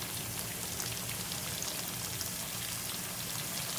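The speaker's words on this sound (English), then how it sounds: "Now I'm gonna put the fish on there." Pieces of unicornfish sizzle in a pan over medium heat, a dense, even crackle and spatter that continues without a break and without any voices.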